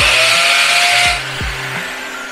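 A power drill bores holes during a frameless shower enclosure installation, a loud high whine for about a second that then drops to a lower running hum with brief motor pitch sweeps.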